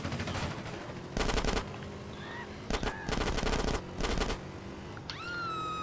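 Rapid automatic gunfire in GTA San Andreas Definitive Edition, heard as several loud, dense bursts of shots separated by short pauses, with game ambience underneath and a rising whine near the end.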